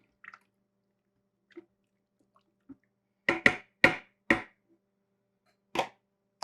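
A spoon stirs soup in a pot with a few soft scrapes, then knocks sharply on the pot rim, making a handful of distinct clanks spaced apart in an otherwise quiet kitchen.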